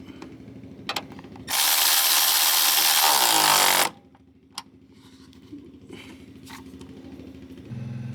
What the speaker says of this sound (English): Then tighten your bolt back up.